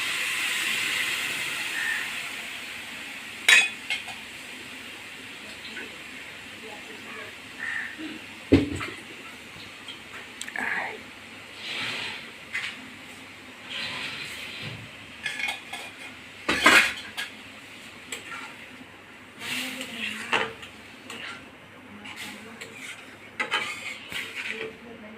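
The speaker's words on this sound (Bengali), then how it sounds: "এইভাবে 15-20 মিনিট দুধটা মিষ্টি কুমড়াটা নেড়ে নেবেন" Milk and sweet pumpkin stirred in a pan for pumpkin laddu, with repeated scraping and clinking of a metal utensil against the pan over a faint steady hiss, the strokes irregular and close.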